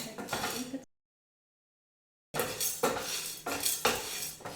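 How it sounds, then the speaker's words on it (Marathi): Chana dal and urad dal dry roasting in a pan, with a utensil scraping and clinking against the metal in short bursts, broken by a pause of silence before the stirring resumes. "हे दोन मिनटं आपल्याला भाजून घ्यायचं आहे"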